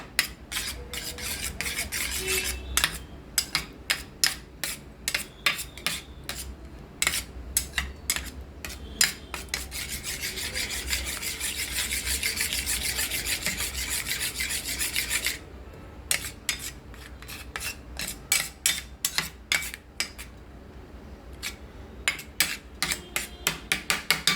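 A single egg is whisked in a bowl with a utensil for an omelette, giving rapid, rhythmic clinking and scraping strokes up close. The beating runs in quick bursts with one steadier stretch of continuous whisking, and nobody speaks.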